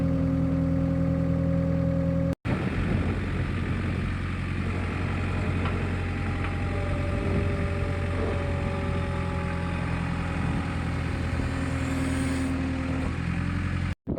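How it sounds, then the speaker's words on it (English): A small gas-powered auger drills into the ground to set a survey monument, its motor holding a steady, fairly loud drone with a brief cutout early on and another near the end. "We're going to auger down here to get our correct depth"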